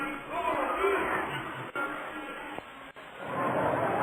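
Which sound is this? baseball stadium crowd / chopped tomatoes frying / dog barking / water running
baseball stadium crowd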